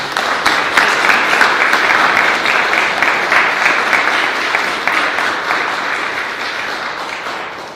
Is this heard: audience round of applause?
yes